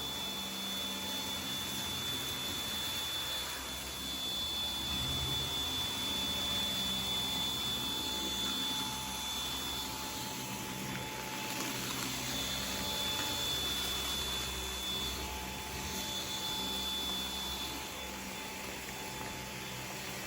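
A Samsung Jet 90 cordless stick vacuum runs on high suction over hardwood floor, producing a constant airy whine with a steady high tone and faint rattling of debris, moderately quiet throughout.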